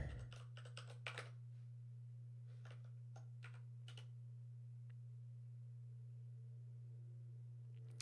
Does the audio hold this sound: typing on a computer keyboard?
yes